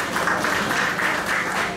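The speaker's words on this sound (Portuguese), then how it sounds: "Palmas para a Cleide." Steady applause from an audience gathered for an evening teachers' training session, a dense continuous patter of many hands clapping for under two seconds.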